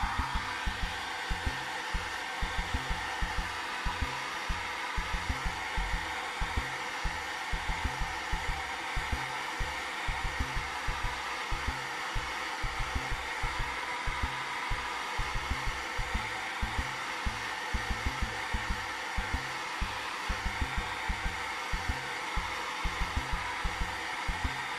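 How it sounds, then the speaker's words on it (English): A handheld hair dryer blows steadily to dry paint on a portrait painting, a constant close whooshing roar with a faint fast rattle underneath, running unbroken throughout. "Okay, so I'm going to use the blow dryer. I'm going to blow dry this"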